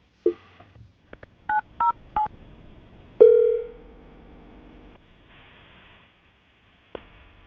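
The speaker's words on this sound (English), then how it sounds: "I'm going to dial the number." Telephone number dialed as a call is placed: a quick series of short touch-tone beeps, then a longer ringing tone, with faint line noise and a final click, nearby and without talk.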